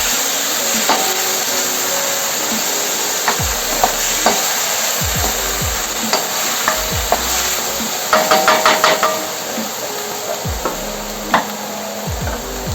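Rice sautéing over high heat for chashu pork belly fried rice: a steady, close sizzle runs throughout, broken by repeated scraping and stirring clatter from a utensil against the pan.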